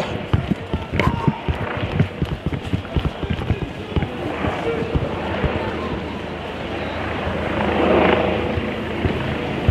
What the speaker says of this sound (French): C'est un hélico de la police, ça.